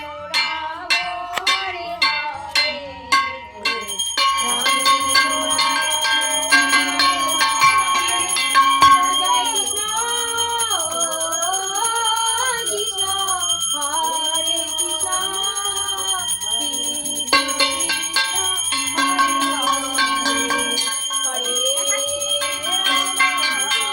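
A hand bell rung during a home Janmashtami puja sounds in a quick run of loud, clear strikes at the start, then gives way to sustained ringing tones with voices close by.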